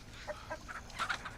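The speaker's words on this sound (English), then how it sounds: "Oh, the chicken." Chicken clucks in The Texas Chainsaw Massacre video game, a few short, moderately faint clucks spread across a quiet outdoor ambience.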